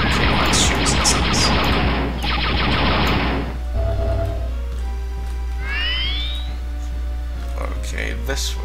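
Blaster shooting in the Star Wars: Dark Forces game, a dense loud burst of rapid fire for a few seconds, followed by quieter electronic chirps and sweeping laser-like tones over a low hum.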